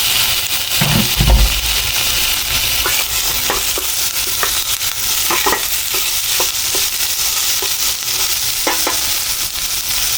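Chopped tomatoes hitting golden-browned garlic in a hot pan for a mussel dish, a loud close sizzle with repeated stirring scrapes and clacks over a constant frying hiss, no one speaking.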